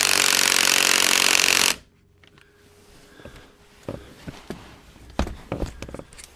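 An impact wrench rattles loud and steady for nearly two seconds, tightening strut nuts during a rear strut install on a Subaru Outback, then stops. After that come quieter clanks and scattered metal handling sounds nearby.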